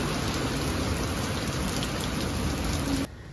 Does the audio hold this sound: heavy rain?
yes